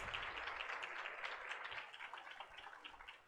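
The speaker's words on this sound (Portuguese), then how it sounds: "Aplausos para essas 2 mulheres." Steady broadband clapping from a seminar audience fills the whole stretch, dense and even, easing slightly toward the end with no voices over it.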